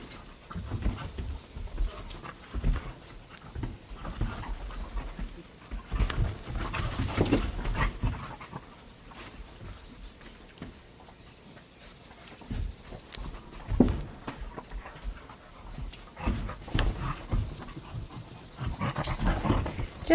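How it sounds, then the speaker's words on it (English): Puppies playing rough, with yaps, growls and panting in bursts across a steady background; the scuffling noise comes and goes, close by and fairly loud at times. "Puppies playing."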